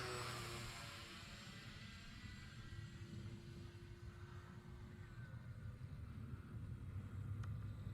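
An E-flite Cirrus SR22T RC model airplane flies overhead, its motor a faint, steady drone that stays distant and even throughout, with no talking.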